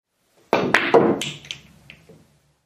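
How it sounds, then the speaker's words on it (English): A billiard cue ball strikes the cushion first and then hits the 5 object ball during a cushion compression shot, giving a few close, sharp taps in quick succession that fade into a short rumble. "So here, I need to hit the cushion first, hitting the 5 after the cue ball has mostly rebounded off the cushion."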